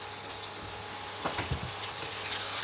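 Crocodile meat fries in a cooked-down spice masala, a soft steady sizzle with a few stirring scrapes and clinks partway through.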